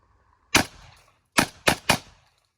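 An Ithaca Model 37 pump shotgun fires at a pumpkin outdoors: one sharp, loud report, a pause, then three quick shots in succession, each followed by a short ringing tail.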